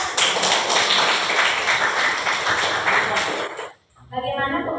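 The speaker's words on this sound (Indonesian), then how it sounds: "Oke, terima kasih, tepuk tangan dong." Classroom applause, a dense steady clapping from a group of students filling nearly four seconds before cutting off abruptly, followed by a brief quieter sound.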